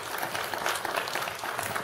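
A church audience applauding itself at a faith-healing service, a dense burst of many hands clapping in a fluttering, uneven patter, fairly soft and continuous with a faint voice underneath.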